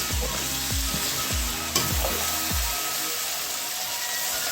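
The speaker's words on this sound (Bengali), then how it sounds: "মাছগুলো দেওয়ার পর আমি 1 মিনিটের মতো নেড়ে নেব।" Small fish fry in a wok and are stirred, giving a continuous hiss and sizzle punctuated by several rhythmic scraping strokes of the utensil against the pan.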